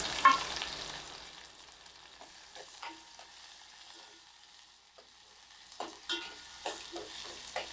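Bottle gourd peels sauté with two green chilies in a hot pan, a soft sizzle under scattered scrapes and stirring clinks of a spoon against the pan.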